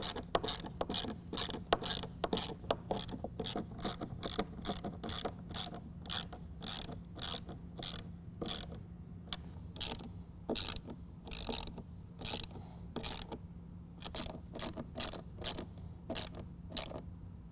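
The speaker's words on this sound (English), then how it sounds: "We're going to use a 7/16 socket to tighten these down." A ratchet with a 7/16 socket tightens bolts on a DECKED truck bed storage system in a 2016 Chevy Colorado, giving a long run of quick, close, regular clicks with a few brief pauses, no talk.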